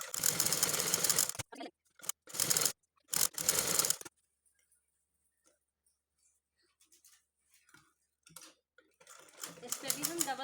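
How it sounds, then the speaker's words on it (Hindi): A sewing machine stitches fabric for a pair of baby shorts in short, loud mechanical bursts with pauses between them, then quiet, with faint handling noises before the whirring resumes. "यहाँ पे हम सिलाई लगा लेंगे"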